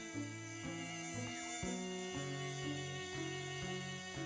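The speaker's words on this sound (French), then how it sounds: "La femelle anophèle pique la nuit pour se nourrir de sang humain." A female Anopheles mosquito giving a thin, steady whining buzz whose pitch shifts in stepped changes, quiet and close, with no talking.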